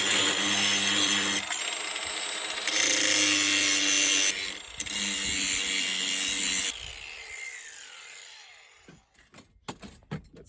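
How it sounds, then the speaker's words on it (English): Angle grinder trimming a metal part during a repair, a loud continuous whine with shifting pitch as the disc bites, easing off into a few short clanks and knocks near the end. "Might just give it a quick trim with the grinder before I whack it back on again."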